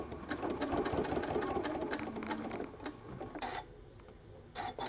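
A sewing machine stitching a shoulder bag, fast rattling needle bursts that slow toward the end into short separate stitches with brief pauses.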